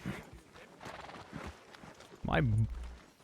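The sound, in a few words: horse walking, clip-clop, in the video game WildRP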